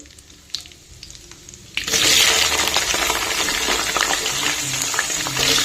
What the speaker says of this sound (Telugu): ఇప్పుడు ఆల్రెడీ కట్ చేసి పెట్టుకున్నటువంటి దొండకాయ ముక్కలు వేసేసుకుందామండి